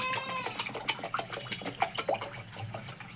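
Water splashes and pours into a hot iron wok for a snail curry, a run of bright irregular splashing and bubbling spatters, close and fairly loud.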